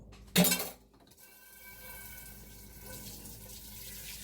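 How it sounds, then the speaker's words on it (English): Kitchen tap switched on after a sharp clink, then a steady close rush of running water over hands in a sink, continuing alone at moderate level. "Wash off my hands."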